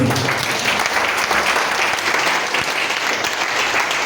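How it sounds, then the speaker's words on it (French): A church congregation claps continuously, dense and loud throughout, with no pauses or talk standing out. "Est-ce qu'on peut acclamer le Seigneur?"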